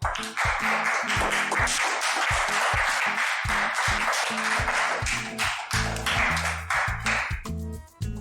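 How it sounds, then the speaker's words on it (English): Full round of applause during an Ugadi cultural and learning programme, loud and sustained for several seconds over steady background music, tapering off near the end. "So again, a big round of clap for yourself."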